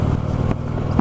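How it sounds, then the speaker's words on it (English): A motorcycle engine runs steadily at idle on a short ride, its low rumble loud and close, with a brief clatter near the end. "Get the engines going there a little bit."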